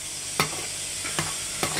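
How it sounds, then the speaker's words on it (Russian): Doshirak instant ramen being stirred in a pot over low heat, with three brief scraping strokes of a utensil over a constant bubbling, sizzling simmer, close and without speech. "Чуть-чуть перемешиваем."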